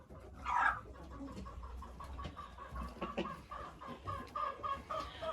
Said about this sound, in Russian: А вот курочка Маран, чистокровная, чистопородная.